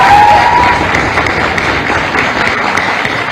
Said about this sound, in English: I think we should give a big round of applause to all of them.